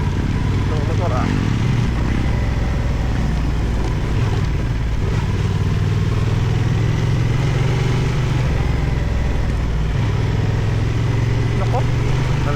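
A Honda Transalp 750 motorcycle engine runs steadily, a loud continuous low drone on a mountain ride, with people talking over it.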